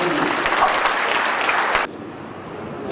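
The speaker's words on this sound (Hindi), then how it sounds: "जोरदार तालियां" A burst of dense crowd applause that stops abruptly partway through, leaving quieter room noise.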